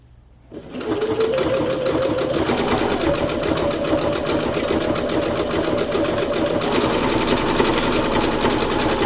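Singer C430 Professional sewing machine stitching through four folded fabric layers, starting abruptly into a loud, steady, rapid mechanical whir with a faint knocking crank that runs continuously to the end.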